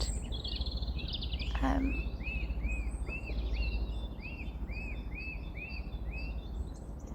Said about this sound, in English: Some type of bird of prey, I'm guessing, by the sound of it.